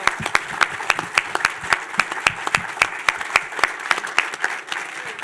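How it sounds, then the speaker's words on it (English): A crowd applauds steadily for several seconds, dense rhythmic clapping with sharp individual claps standing out, loud and without talking over it. "Let's give them a round of applause."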